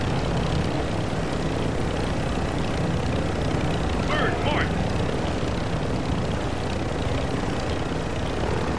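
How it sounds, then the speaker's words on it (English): A helicopter in the video game Call of Duty gives off a constant, loud, rushing rotor and engine drone that fills the scene without letup. "No, they're in this chopper, I think."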